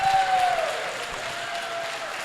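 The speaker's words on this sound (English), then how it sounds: "Let's clap it up for Cassie and Bree." Wedding guests clap together in a continuous wash of applause, loudest at the start and then holding steady at a moderate level.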